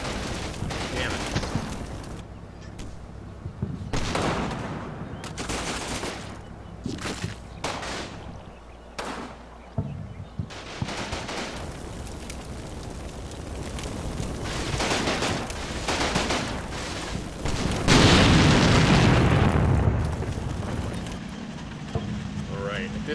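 Gunfire and explosions ring out in a World War II tactical battle in the Combat Mission Final Blitzkrieg video game, with irregular bursts of shots and heavier blasts across a sustained firefight, mixed with a voice talking over the action.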